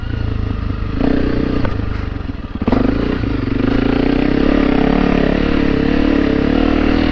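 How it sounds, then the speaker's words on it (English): Honda CRF300L Rally motorcycle climbing a steep dirt chute: a loud, close engine revs hard and unevenly, with clattering and scraping from the terrain and a brief dip in power partway through. "So if I can get up the chute on this bike, then I know this bike will do everything that I care to do out here."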